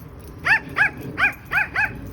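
Puppies barking outdoors in a summer garden, five quick high-pitched yaps in an even rhythm, close and clear over quiet background.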